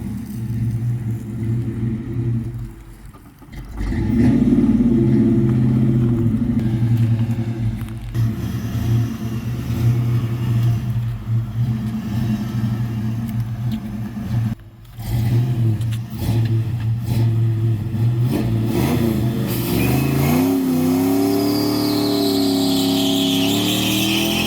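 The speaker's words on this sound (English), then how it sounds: "this truck pulled that one out over there, and now it's stuck again" A truck engine stuck on a building site revs hard and steadily up close, loud and sustained with surging rumble, a brief dip partway through, then rising pitch toward the end.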